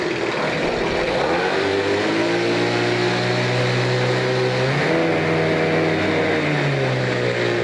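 A 1992 Evinrude 9.9 hp two-stroke, 15-inch short-shaft outboard boat motor runs loud and close, its buzzy drone holding steady, then dipping briefly and settling back as the throttle changes.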